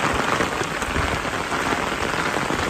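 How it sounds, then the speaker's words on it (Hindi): Heavy rain pouring down in a village in India, a loud, dense, steady hiss of drops striking surfaces close by, with no pauses. "बारिश, अरे वाह।"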